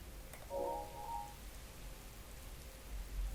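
Rain falling in the video game Breath of the Wild, a soft steady hiss of drops filling the whole stretch, with a brief tonal game chime early on and no talking.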